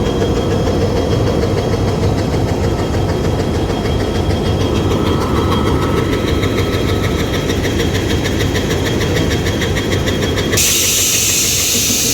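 A passenger train at Tilakpur railway station in Adamdighi, Bogura, its engine droning loud and steady throughout with a rhythmic clatter, close by, and a sudden hiss entering near the end.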